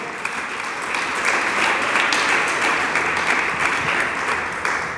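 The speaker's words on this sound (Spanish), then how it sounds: "Dele palmas al Dios del cielo." Steady, dense applause from a large church congregation during a sermon, sustained throughout at a strong level.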